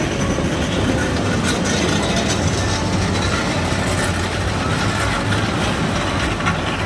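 Toy train on the mountain railway from Mettupalayam to Ooty, heard from on board: a steady, loud rumble of wheels and carriages that runs throughout without a break, with no talk over it.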